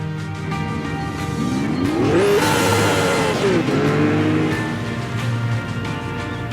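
Roaring 1,000-horsepower racing car engine in the rally video game V-Rally 4 on a mountain road, revving up and down through gear changes with a loud, steady drone.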